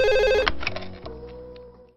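A telephone rings with a short, loud electronic trill for about half a second and then stops. Faint knocks and indoor rustling follow.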